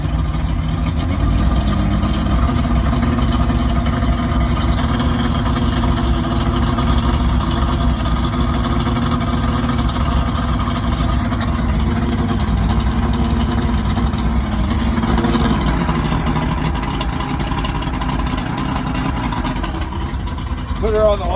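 A 1988 Blackmax 200 outboard boat engine runs continuously at about 1,000 RPM, a loud, steady low drone held throughout with little change in pitch, while people talk over it.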